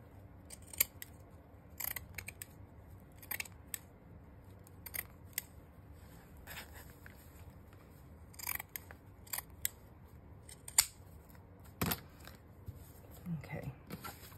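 Scissors snip through the bottoms of paper pages in a small booklet, a series of short, crisp, fairly quiet cuts at irregular intervals over a soft room background.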